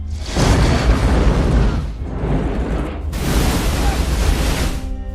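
Deep, roaring blasts of an underwater torpedo explosion striking a ship, two long rumbling surges of noise separated by a brief dip, loud and close.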